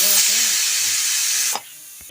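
A pressure cooker full of mutton paya vents steam in a loud, steady hiss that cuts off abruptly partway through, leaving near silence and a faint knock.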